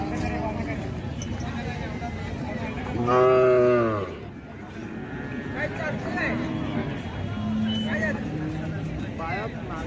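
A cow moos loudly once in a long, drawn-out call at a Khillar cattle market in Sangola, with a crowd of voices chattering and traffic rumbling throughout the busy outdoor scene.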